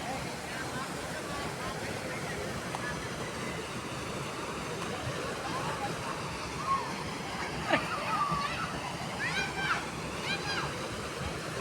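Steady broadband roar of rushing water at Pangadilan Falls, a continuous wash filling the clip with voices talking faintly underneath.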